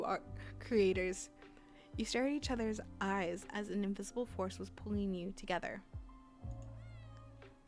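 A cat meows several times in the video game The Kid at the Back, with clear mewing calls mixed in among a voice that keeps talking over them.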